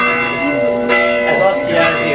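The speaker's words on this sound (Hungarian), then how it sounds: "Megszólalt a harangszó" A church bell rings at a Hungarian village celebration for August 20 in Szabás, sounding steady strokes with speech overlapping.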